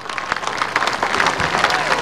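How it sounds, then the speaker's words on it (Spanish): Audience applause at a Peruvian government event for a presidential program, steady dense clapping filling the whole stretch at moderate loudness, with a voice faintly underneath. "ustedes me acompañen con un fuerte aplauso"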